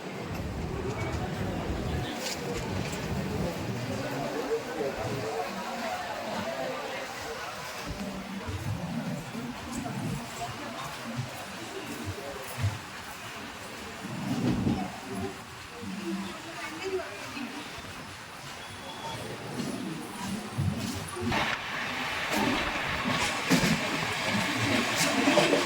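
Passenger train rolling along after leaving Ernakulam station, a continuous rumble with rhythmic clatter from the cars and occasional rain-like hiss, while someone talks over it.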